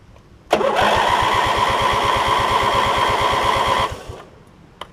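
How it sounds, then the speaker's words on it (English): Briggs & Stratton opposed twin engine cranks on a jump starter for about three seconds, a loud close starter whir with rapid even chugging pulses that stops abruptly without firing. "These opposed twin Briggs & Stratton engines are pretty hard to turn over."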